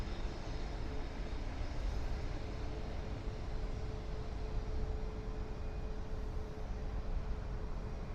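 A passenger airplane takes off from Toronto Pearson Airport, heard as a steady, broad engine roar that holds at a constant level throughout, distant-sounding and without speech.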